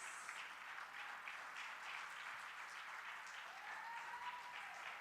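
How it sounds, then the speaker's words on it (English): Steady applause from a conference crowd at a chamber of commerce event, many hands clapping in a continuous rattle, heard quietly and from a distance. "Give him and her a grandiose applause."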